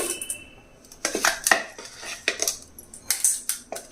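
Coarsely ground ginger is scooped from a mixer jar onto a plate, giving a run of close, sharp clinks and scrapes of a metal spoon against steel, with no voices.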